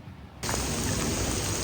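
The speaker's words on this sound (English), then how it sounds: "It's still raining, but we're going" Rain falling outdoors during a storm with a little thunder, starting abruptly after a quiet moment and then a steady broadband patter at moderate level with no talking.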